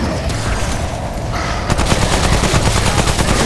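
Rapid automatic gunfire in the shooter game Remnant: From the Ashes, a loud continuous burst of heavy shots that thickens partway through, dense and close with no voices.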